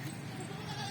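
A pregnant goat on a rooftop goat farm bleats in a short, steady call, fairly faint and close.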